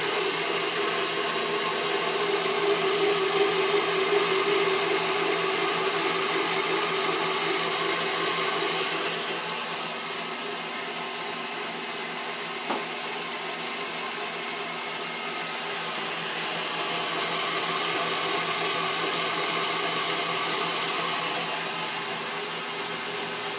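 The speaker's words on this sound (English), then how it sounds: "we're going to whisk this until it is a pale yellow color" An electric mixer whisks tres leches cake batter with a steady, high whirring drone, stepping slightly lower partway through and running continuously, close and fairly loud, with no talking.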